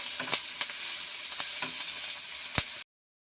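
Curry leaves spluttering in hot oil with fried tomato, a close, continuous sizzle broken by sharp pops and crackles, loudest near the end before the sound cuts to silence.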